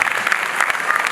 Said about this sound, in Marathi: जोरदार टाळ्या, क्या बात आहे